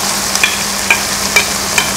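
Masala paste of ground tomato, pepper powder and turmeric sizzles steadily in a hot pan for a Kerala fish mulakittathu, a loud continuous frying hiss broken by a few light, evenly spaced clinks of a stirring spoon.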